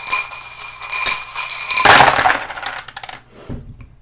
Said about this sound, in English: I'm just going to do some shuffling here.